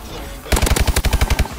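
Newly unlocked video-game gun firing a fast automatic burst of about a dozen sharp shots in rapid, even succession, loud and close after a brief quiet lead-in.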